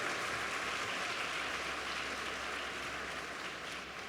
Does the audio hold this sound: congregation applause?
yes